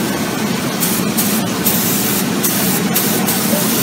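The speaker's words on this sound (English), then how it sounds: "Also the little parts have to be sprayed." Airbrush spraying paint onto small parts of a PIKO model diesel locomotive D.141 FS during production, a loud continuous close hiss with short bursts and pauses as the trigger is worked.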